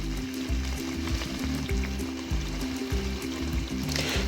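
Boiled turnips go into a pan of sizzling fried chicken masala, giving a steady, close frying hiss with a bubbling, wet sizzle that carries on without a break and with no talking.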